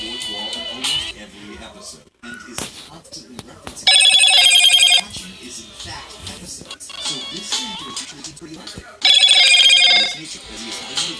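A phone rings in two short, bright bursts amid a noisy gaming session, sounding loud and close over a busy background of game audio and chatter.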